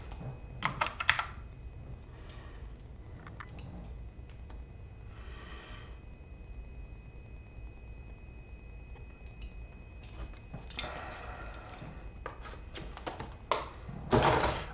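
Credit card details are tapped out on a computer keyboard in quick, faint bursts of clicking keys, separated by quieter stretches of room noise, with no speech.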